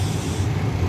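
Sempati Star Scania K410 nonstop bus passing nearby, a heavy low engine rumble with broadband road roar, steady and loud through a brief moment.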